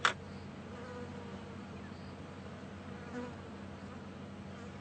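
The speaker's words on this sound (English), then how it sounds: "you can probably even hear all the flies buzzing around us" Flies buzz steadily and softly around a buffalo carcass in the African bush on an evening safari drive, a continuous faint insect drone with one brief louder burst at the start.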